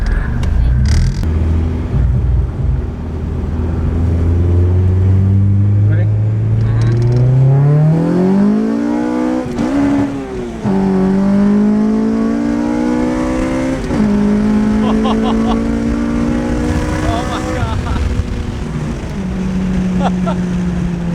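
A Honda Civic EJ6 with a swapped K24 engine and light flywheel revs loudly and close by, the pitch sweeping up and bouncing against the rev limiter in stuttering steps, then holding high before easing off, with people talking over it.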